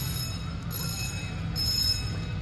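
An amusement park tram rolls past at Storybook Land, a low rumbling drone with faint high metallic ringing above it and no voices.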